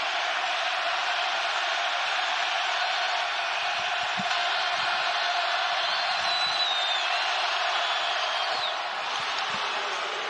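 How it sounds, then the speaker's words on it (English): A basketball arena crowd with a packed student section roars at full throat during a Kansas State vs Baylor college game, a dense, steady wall of cheering and yelling that stays loud and sustained throughout. "And this crowd and this student section at full throat."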